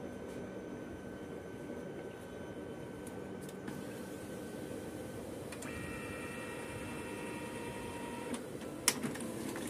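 Canon imageClass MF3010 laser printer running a print job with a paper pickup problem, giving a steady mechanical hum with a tonal whine joining partway through and a few faint clicks near the end.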